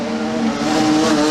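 A production sedan race car's smoking, failing engine droning loudly and steadily on the track, with a sustained strained roar and faint tyre noise throughout.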